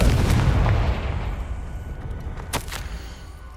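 Fire spell blast in Hogwarts Legacy, a loud booming burst at the start that rumbles and fades, followed by a smaller crackling pop a couple of seconds later over game ambience.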